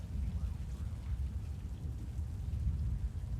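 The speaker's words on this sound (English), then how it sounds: "dang, look at the storm near Angora." Steady low rumble of rain and distant thunder from a storm in a storm-chasing video game, a continuous even wash with no clear individual cracks, heard alone.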